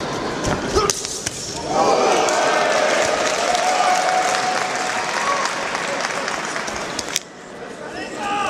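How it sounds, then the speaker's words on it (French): Boxing match crowd applauding both fighters after a drawn decision, a dense sustained clatter of clapping that swells, holds for several seconds and then cuts off abruptly, with a few sharp thumps at the start. "vous pouvez les applaudir tous les deux."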